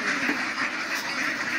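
Ducks on a large farm in the Saudi Arabian desert quack in a dense, continuous chorus, close and steady with no talk.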